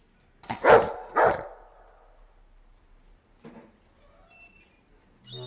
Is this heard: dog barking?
yes